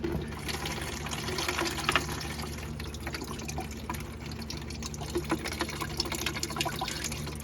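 Engine coolant pours steadily from a 2004 Chevy Trailblazer with a 4200 Vortec engine into a container below, a close, continuous splashing trickle.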